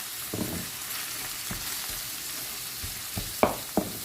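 Minced meat sizzles and sputters in a hot pan with frozen fenugreek leaves, a steady low crackle broken by scraping stirs and a couple of louder spatula knocks near the end.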